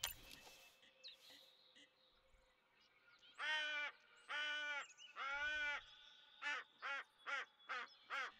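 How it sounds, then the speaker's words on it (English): Wild turkeys in The Hunter: Call of the Wild video game give a run of loud, harsh calls, three longer bursts followed by four short rapid ones, after a quiet stretch of faint ambient noise. "These are wild turkeys."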